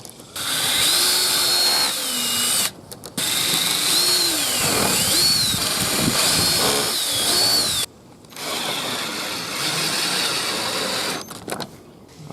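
A power drill runs in several sustained whirring bursts with pitch that rises and falls, driving a screw into old rotten wood while repairing a sagging wooden gate. It is loud and close, with brief pauses between runs.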